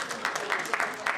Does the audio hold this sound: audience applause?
yes